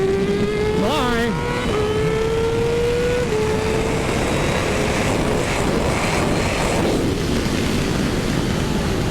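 Lightfighter V2.0 electric superbike racing on a track among a pack of 600cc bikes, with a high rising-and-falling electric whine over loud, constant wind roar and engine drone from nearby machines.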